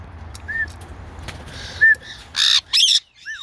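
A pet bird gives several loud harsh squawks, short bursts repeating close by, with a few thin whistles earlier amid quiet room noise.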